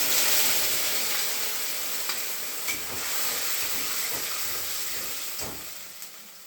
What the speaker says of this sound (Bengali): প্রথমেই আদা, মৌরি, কাঁচা লঙ্কা বাটা গরম তেলের ওপরে দিয়ে দিলাম।